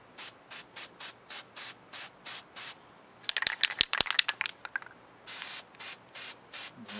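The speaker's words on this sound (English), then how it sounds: "I'm going to spray from a little bit more of a distance this time." A spray paint can sprays in short, evenly spaced bursts of hiss, with a rattle of the shaken can in the middle, then a longer spray, applied to a rifle.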